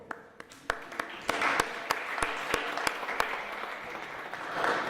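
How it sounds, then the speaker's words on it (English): An audience at a motivational talk applauds, with scattered sharp claps at first that fill into a steady, moderately distant wash of clapping, without talk. "Give yourselves a round of applause."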